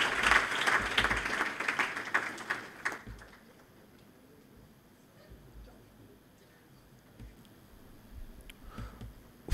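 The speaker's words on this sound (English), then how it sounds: "A round of applause." Applause greets Team Farafenye at a youth forum, loud and dense crowd clapping for about three seconds before fading into quiet room tone with light rustling.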